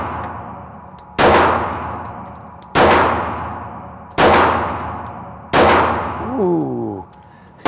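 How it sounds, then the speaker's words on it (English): Gen 6 Glock 17 pistol fired four times, each sharp, loud crack followed by a ringing echo, spaced roughly a second or more apart, with a faint whoop after the last shot. "let's try out the Gen 6 Glock 17 now."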